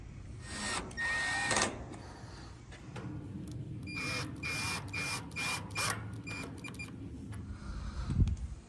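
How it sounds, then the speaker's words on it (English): A power screwdriver drives screws into a panel of a Lennox outdoor air conditioning unit, giving short whirring bursts separated by clicks and handling sounds, close and moderately loud. "now put the screws back"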